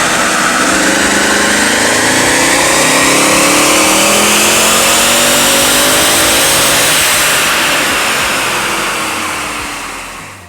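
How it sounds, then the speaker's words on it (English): A stock Mercedes-AMG R63 with a 6.2-liter V8, about 111,000 miles and stock exhaust, roars loud and close on a dyno, its pitch sweeping up steadily through a long full-throttle pull before tapering off. "so we ran the R63 twice on the dyno"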